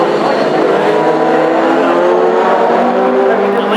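Classic hot rod race cars, among them a black and gold Anglia, roar past during a heat at Northampton, a loud, sustained engine drone that rises and shifts in pitch with the passing field, and no voices cut in.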